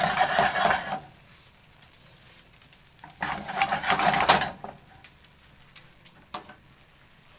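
Risotto is pushed around a pan with a spatula or spoon in two loud bursts of scraping and sizzling, separated by quieter simmering with a few light knocks.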